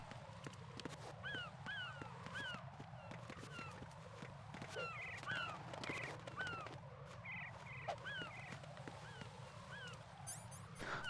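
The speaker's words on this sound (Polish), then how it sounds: "To są inne ptaki. Gołębie." Birds, apparently pigeons, in the video game Metal Gear Solid 2 give repeated short chirping calls in clusters over a steady low ambient game background.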